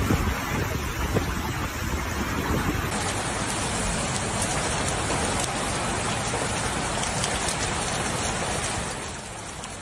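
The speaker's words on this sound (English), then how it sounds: "In some places, the rain is accompanied by gusts of wind." Heavy, steady rain pouring down in a dense, continuous roar during a thunderstorm in Dubai, UAE, with some wind noise mixed in.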